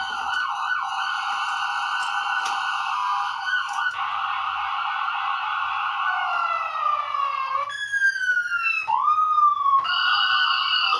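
A loud police siren wails steadily, then switches to faster yelping and warbling tones, continuous and close.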